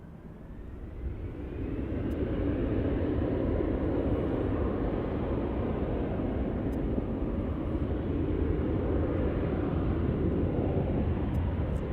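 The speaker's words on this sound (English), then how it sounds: "E175 departing right here off of runway 27." An Embraer E175 jet departs off runway 27 at Cincinnati's CVG airport. A broad, roaring engine rumble swells within the first couple of seconds, then holds loud and steady until the end. No voices are heard.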